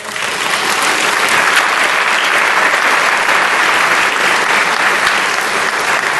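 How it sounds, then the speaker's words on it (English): A large audience at the 2019 Nevada State of the State address applauds in a loud, dense, sustained wash of clapping that holds steady for the whole stretch, with no speech over it. "Please join me in showing them our appreciation with another round of applause."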